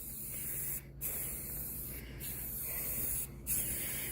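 Continuous hissing of a spray paint can, broken by three brief pauses as the nozzle is released and pressed again.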